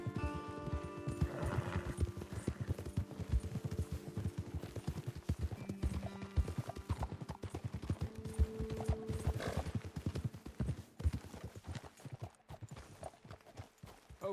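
Horses in the Red Dead Redemption II video game clop along with a steady rhythm of hooves on the ground, close and continuous, with a neigh rising near the start.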